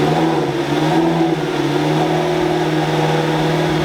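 An abandoned McLaren car engine runs loudly and steadily up close, its droning mid-pitched tone holding with little variation throughout.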